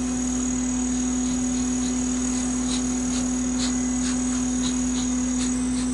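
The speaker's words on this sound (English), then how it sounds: "There's a lot of bees." A busy open beehive mid-inspection, with a dense steady buzz of many honeybees filling the air close by, occasional individual bees passing near with brief louder whines, and no talking.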